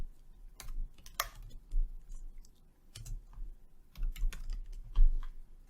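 Keys clatter on a computer keyboard in irregular bursts of clicks and taps, close and moderately quiet, with short pauses between runs of typing.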